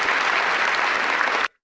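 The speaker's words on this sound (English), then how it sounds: "The reason they're not clapping very hard" The audience at the White House Correspondents Dinner gives steady, dense applause that holds at an even level, then stops abruptly.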